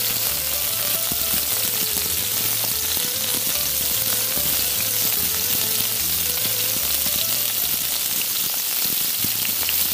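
Champignon mushrooms frying in a pan on a Shmel camping stove outdoors, a dense continuous sizzle and crackle under a steady burner hiss, with a low repeating hum beneath.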